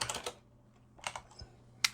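Short bursts of typing on a computer keyboard, a quick cluster of key clicks, a pause, another small cluster and a single sharp keystroke near the end, all fairly close and alone.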